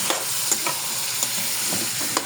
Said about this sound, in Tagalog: pagtapos mo una bawang medyo tutustayin mo siya na mag brown